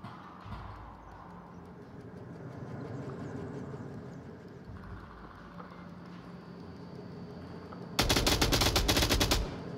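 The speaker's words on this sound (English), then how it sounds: "Long range shots from Drewski gets Murphy in the Marsoc twins" Long-range gunfire in the VR shooter Onward, heard as a sharp loud burst of rapid shots near the end after a stretch of quieter background game noise.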